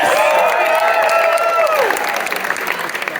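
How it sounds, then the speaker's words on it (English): Concert crowd at a show in Market Hall, Peterborough, breaking into loud, dense applause and cheering, with sustained shouts riding over steady clapping that thins slightly toward the end. "give him a massive round of applause"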